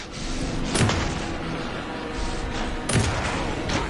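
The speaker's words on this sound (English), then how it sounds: "Anderson, pin him down with gunfire for me to get the light on him." Gunfire in the video game Alan Wake during a fight in the dark: a dense, roaring wash of noise with two sharp blasts standing out, loud and steady with no voices.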